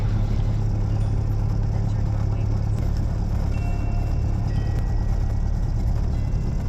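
A Cessna Skyhawk's engine drones steadily and loudly during takeoff from runway 10 at Galesburg, a constant heavy hum filling the cabin.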